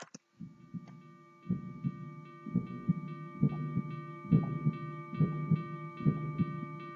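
Heartbeat sound effect in a train crash video, a steady series of deep, thumping double beats over a thin electronic hum, clear and isolated with no talk.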